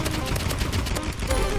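A paintball gun in the game Rivals fires in a dense, fast stream of close, punchy shots with no pause across the short burst.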